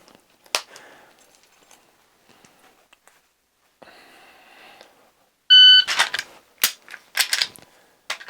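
A shot timer sounds a sharp electronic beep during a dry-fire pistol drill, followed by quick clicking and snapping bursts up close, with quiet room tone and faint rustling beforehand.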